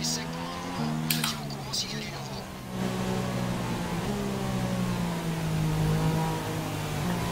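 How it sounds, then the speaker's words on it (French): A Formula 1 car engine in the F1 2016 racing game at the Shanghai Grand Prix holds a steady high-pitched drone that shifts pitch through gear changes, with brief clicks early on and steady loudness throughout. "ils ont bien reproduit sur ce jeu-là le bruit du moteur"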